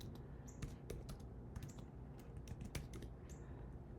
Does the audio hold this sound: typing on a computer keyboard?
yes